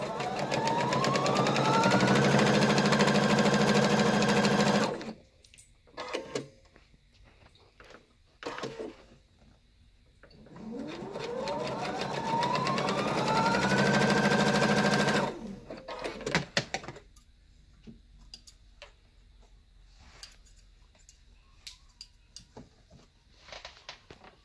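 Sewing machine stitching through quilt batting in two long runs of steady, close whirring, each about five seconds, separated by a pause with faint handling clicks; no talking.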